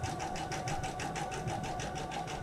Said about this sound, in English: I'm going to start sewing, and I'm going to stitch all the way to the end.